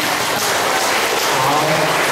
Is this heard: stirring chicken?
no